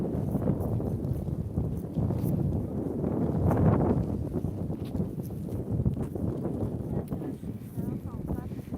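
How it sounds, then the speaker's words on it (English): Outdoor wind near Talkin Tarn buffets the microphone in a low, continuous rumble, with crunching footsteps and a person talking over it. "Oh, we've got some wind coming up."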